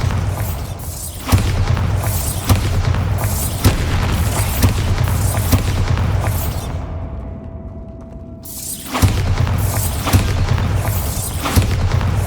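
Bombarda blasting spell explosions in the video game Hogwarts Legacy: a series of loud, punchy booms with whooshing tails at a steady rhythm, a brief quieter gap, then more blasts resuming.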